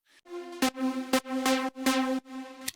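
A bright, buzzy synthesizer lead plays a short melodic phrase of sustained notes broken by sharp rhythmic attacks, loud and upfront with no other sounds.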